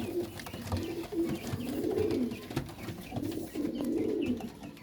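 Flying pigeons in Faisalabad give repeated soft, throaty coos in overlapping rolling phrases, close and continuous throughout with a little background clatter.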